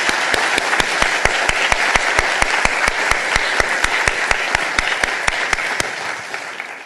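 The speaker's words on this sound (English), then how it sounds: "let's give a very warm round of applause to the panelists." Warm applause for the panelists at an academic job-search event, a steady, fairly loud wash of clapping across the whole clip with a few sharp individual claps standing out.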